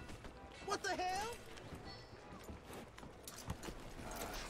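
Rhythmic horse hoofbeats in Red Dead Redemption 2 clop along at a steady pace, joined by a brief horse whinny, with game sounds and faint background noise around them.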